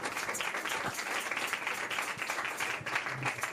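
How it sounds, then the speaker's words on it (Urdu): A church congregation claps loudly during a worship service, a dense sustained applause that runs on without a break. "یسوع کے لیے زوردار تالیاں"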